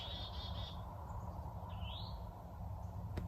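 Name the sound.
birds singing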